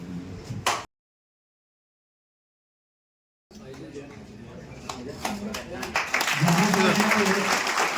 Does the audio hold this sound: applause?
yes